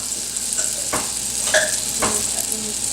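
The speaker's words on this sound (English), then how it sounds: "I've got some canola oil and I'm going to put a tablespoon on there" Canola oil sizzling in a hot pan with melted fat, a steady close crackle with a few soft stirring scrapes, no talk.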